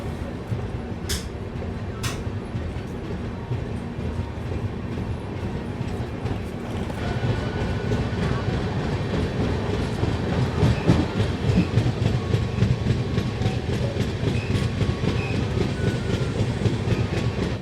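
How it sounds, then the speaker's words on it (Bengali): A passenger train on the Howrah–Bolpur line pulls away from Guskara toward Bolpur, with rumbling wheels and a clickety-clack that grows louder and denser as it gathers speed, heard from on board. "হর্ন দিয়ে দিল, ছেড়ে দিল গুসকরা থেকে বোলপুরের উদ্দেশ্যে।"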